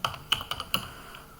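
About five quick, close keystrokes on a computer keyboard while Python code is typed, crisp separate clicks with no talking.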